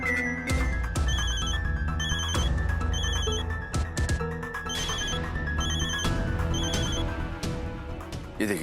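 A phone rings in repeated bursts of electronic ring tone over a loud music bed for an incoming call from Chadda, the rings pulsing rhythmically throughout without any talking.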